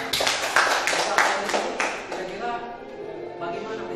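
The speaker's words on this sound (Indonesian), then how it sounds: "kita beri tepuk tangan." A short burst of clapping from a small audience at a forest fire prevention lesson, fairly close and quickly fading into quiet room noise and faint voices.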